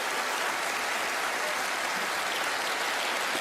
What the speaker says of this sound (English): Give Carlos a round of applause as he makes his way down.